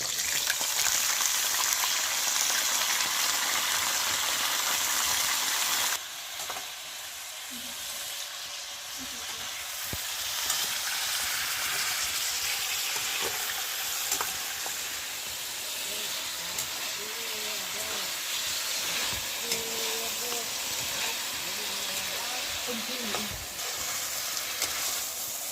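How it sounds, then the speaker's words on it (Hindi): Sliced eggplant frying in hot oil for a brinjal yakhni, giving a steady, dense sizzle that drops slightly in level partway through and then holds as a continuous hiss. "अब इस ऑयल में हम डालेंगे ये बैंगन।"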